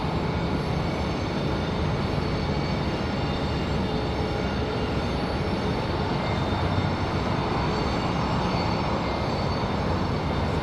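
A Breeze Airways airliner arriving at Raleigh Durham airport produces a steady, loud broadband jet roar that stays constant throughout, with no speech.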